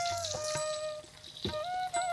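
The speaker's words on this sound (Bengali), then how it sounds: "আওয়াজটা সত্যি অসাধারণ, তেলে ভাজতেছে, অন্যরকম একটা আওয়াজ আসতেছে" Food fries in hot oil aboard a fishing boat, giving a steady close sizzle and crackle with a faint tonal hum running underneath.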